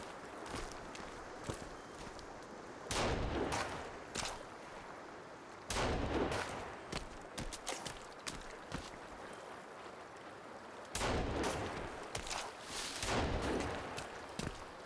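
Gunfire in the survival game Sons of the Forest sounds as a few loud, spaced shots over a steady rustling, footstep-like background noise, with quieter thuds in between.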